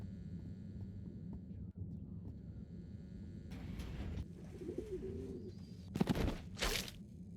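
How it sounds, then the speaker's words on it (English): A pet bird cooing in the stop-motion video game Harold Halibut, with soft low coos over a constant hum, then a brief rustle and a couple of louder bursts toward the end. "That's Zoya's bird."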